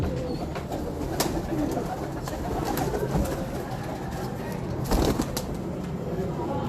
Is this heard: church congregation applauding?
no